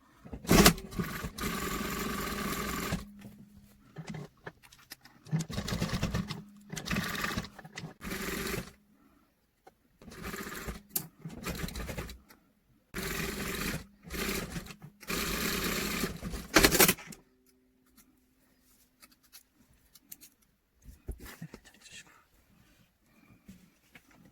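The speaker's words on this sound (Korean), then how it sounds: "그래서 옷에다가 얕은 선 하나만 박음질 할 거예요." Sewing machine stitching a pocket onto training pants, several loud close bursts of rapid mechanical whirring separated by pauses, then quiet.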